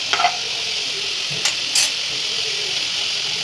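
Onions sauté in a hot pan for egg gravy, a loud, continuous sizzle with a few brief stirring scrapes near the start.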